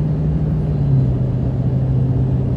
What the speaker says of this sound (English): this car's got an obvious V8.